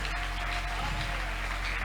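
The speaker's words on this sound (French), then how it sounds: "Applaudissons notre Seigneur." Congregation applauding during a church service in Gemena, a steady dense wash of clapping filling the short moment without pause, fairly loud and continuous.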